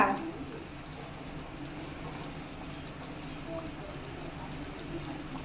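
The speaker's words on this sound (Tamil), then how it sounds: "குழம்பு பார்த்துடலாமா? சூப்பராக கொதிச்சிக்கிட்டு இருக்கா." A pot of tamarind kuzhambu boiling steadily, a continuous close bubbling hiss with a faint voice underneath.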